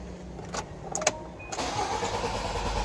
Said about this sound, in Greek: Βλέπουμε δεν παίρνει μπρος